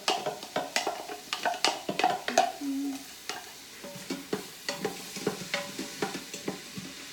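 Carrots, celery, onions and garlic frying in a little oil while a utensil stirs them, a rapid series of close scraping taps against the pan over a steady sizzle.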